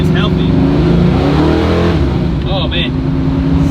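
A loud turbo Humvee engine revs up and holds a rough, steady roar close by, with a voice talking briefly over it.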